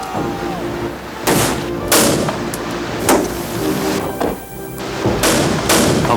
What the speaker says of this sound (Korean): 자용포 발사! 쏴! 천천히 발사!